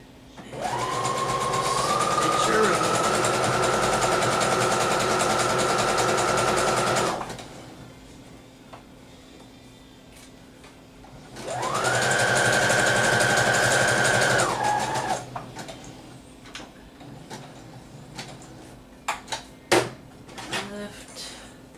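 A sewing machine runs in two steady whirring bursts of several seconds each, loud and close, separated by a pause, followed by light handling clicks and taps of fabric and tools.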